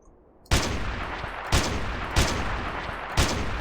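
Rifle shots ring out in the Carnivores Triassic game, four loud separate cracks about a second apart, each followed by a short ringing decay, with no voices.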